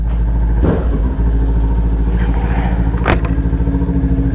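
A Kawasaki Ninja 400 motorcycle from 2022 idles up close with a steady, throbbing hum, broken by a couple of brief rising revs as it gets ready to ride off.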